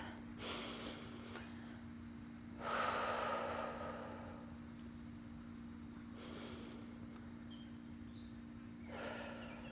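Deep breathing at the start of a yoga class: slow, deliberate inhales and exhales spaced a few seconds apart, close and soft over a steady background hum.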